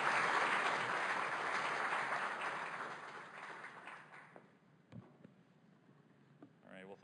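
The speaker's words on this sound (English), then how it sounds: "And help me introduce our presenter with applause to Dr. Cohen." Audience applause for a dermatology presenter at a primary immunodeficiency conference, a dense sustained clapping that fills the room for about four seconds and then fades into scattered claps and quiet shuffling.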